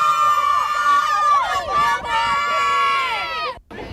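UWM Panthers fans cheer loudly in cold weather, a dense crowd of voices whooping and shouting in sustained, rising and falling cries that drop off briefly near the end.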